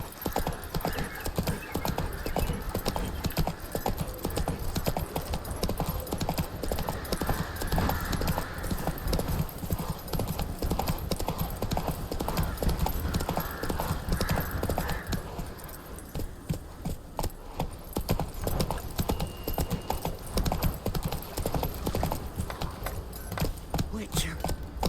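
Roach, Geralt's horse in The Witcher 3 video game, gallops with a steady, close clip-clop of hooves that runs throughout, a whinny and jangling tack mixed in, with voices over the hoofbeats at times.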